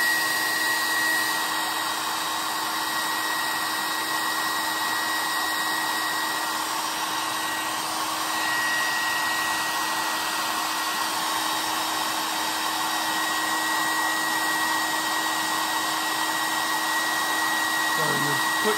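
A hair dryer on its low setting blows steadily and close by, drying a watercolor painting of a wren, a constant even whir that runs unbroken throughout.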